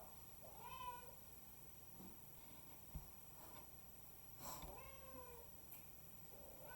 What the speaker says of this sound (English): My cat wants to meow every time I make a video